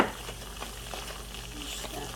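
Tomato bisque soup coming up to a gentle boil in a pot, giving a soft, steady bubbling and faint sizzle with occasional small pops, close and quiet, no talking.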